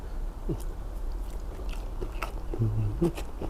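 Close-up biting and chewing of a fatty beef basil stir-fry, with a few soft crunches and wet mouth sounds over a short stretch and no clear talking.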